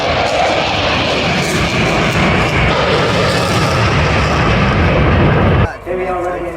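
An aerobatic display plane's engine roars loud and close at the Eastbourne Airshow, a sustained, rumbling drone with a voice mixed in, cutting away abruptly just before the end.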